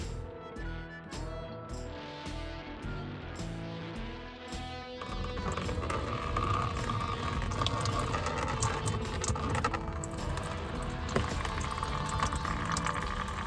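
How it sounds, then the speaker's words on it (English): Coolant pours from the loosened drain plug of a 2003 Toyota Tundra radiator, a steady liquid splatter and trickle that grows louder and fuller partway through and continues without a break. "Twist that guy loose to drain the radiator."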